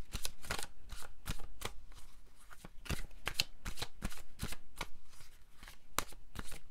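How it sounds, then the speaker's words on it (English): A deck of tarot cards is shuffled close up, producing a rapid series of sharp papery riffles and flicks in an irregular rhythm, fairly quiet and with no talking. "One more shuffle."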